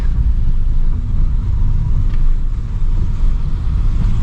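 A car rolls slowly along a scenic coastal road in Chonburi, its low engine rumble and road noise steady and close throughout, with no talking.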